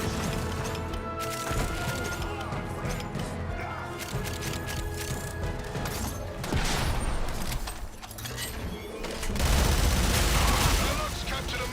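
A captured Magmos cannon in the video game Warframe fires in heavy, continuous bursts amid crashing impacts and clattering battle noise, loud and dense throughout.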